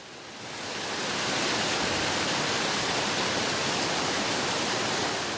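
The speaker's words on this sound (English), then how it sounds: "The reason why I came here to this little waterfall is to get some drinking water for the day." A small Arctic waterfall of glacier meltwater pours in a steady, close, full rushing roar that swells slightly at the start and then holds even throughout, with no voices.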